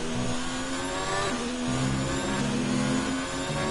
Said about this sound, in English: I'm going to shut up for a bit so you can hear the engine notes and hear the gearers.